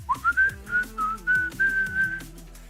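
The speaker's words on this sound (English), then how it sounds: "Oh, another whistle." A person whistles a short run of clear, separate notes in a steady rhythm, fairly close and loud over a low background.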